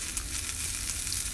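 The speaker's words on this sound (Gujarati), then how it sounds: "2 ડુંગળીને બારીક કટ કરીને નાખી છે મીડિયમ સાઇઝની વઘારમાં" Finely chopped medium-sized onions tempering in hot oil with mustard seeds and cumin, sizzling steadily and close, a continuous hiss without pause.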